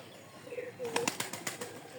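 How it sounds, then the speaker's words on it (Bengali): Pigeons at a farm housing several breeds coo briefly and flap their wings in a quick flurry of soft, close beats. "দেখাবো আজকে একটি কবুতরের ফার্ম যেখানে বিভিন্ন রকমের কবুতর"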